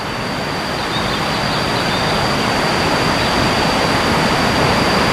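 A large river flows past Bogor Botanical Garden, giving a steady, loud rushing roar of water that continues unbroken and without voices throughout.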